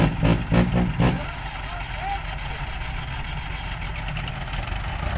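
A farm tractor's engine catches and settles into a steady idle, loud and close, with rough rumbling at the start, someone speaking briefly over it, and the idle continuing alone.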